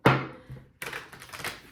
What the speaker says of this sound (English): Got two more shuffles here.